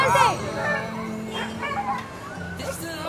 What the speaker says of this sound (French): Ils sont en train d'attraper le chien, il y a beaucoup de bruit